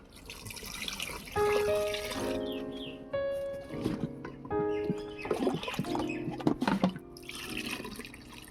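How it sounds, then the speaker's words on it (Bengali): Water poured into cooked lentils for mango dal, splashing and gurgling in uneven bursts with short pauses between pours. "এবার পরিমাণ মতো জল দিয়ে দেব"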